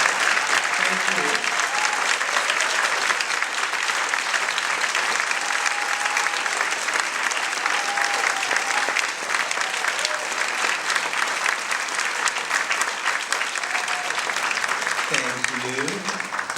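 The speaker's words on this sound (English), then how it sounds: "Don't applaud anymore, they'll all want to become actors." Sustained, loud applause from an awards-ceremony audience, with a standing ovation for drama critics circle members, fills the room as dense continuous clapping throughout, with faint voices now and then underneath.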